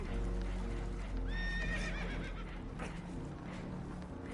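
Spooked horses in the Red Dead Redemption 2 video game give a short, high whinny over steady background noise from the game.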